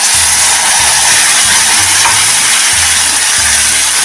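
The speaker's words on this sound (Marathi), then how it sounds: "ही पेस्ट आता फोडणीमध्ये थोडा वेळ अशी परतून घेऊया" Spice paste is stirred in hot tempering oil in a pan of kairi kadhi, a loud steady sizzle with hissing steam, while low scraping strokes of a spoon come and go underneath.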